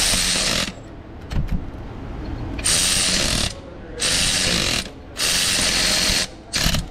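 Power tool spinning a fastener off during a Melling oil pump upgrade on a GM 5.3 V8: four or five loud whirring bursts, each a second or less, separated by short quieter pauses.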